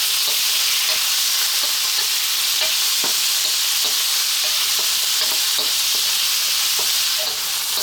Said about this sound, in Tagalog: So, gigisahin ko lang siya ng mga ilang minuto.